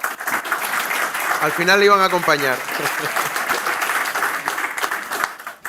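An audience applauds at a sector panel meeting. The steady clapping continues throughout under a voice speaking over it.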